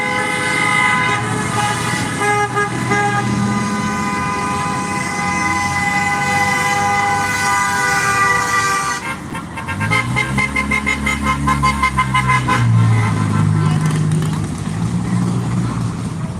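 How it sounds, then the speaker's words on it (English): Passing cars on a Los Angeles street sound loud, sustained horns in solidarity with protesters, one long blare, then a burst of shorter honks alongside traffic rumble. "So a lot of people are going by honking, kind of solidarity with"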